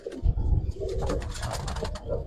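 Pigeons coo in a loft holding giribaz and colouring breeds, with a low, bubbling coo repeating in short bursts over steady ambient noise and the flutter and shuffle of birds nearby.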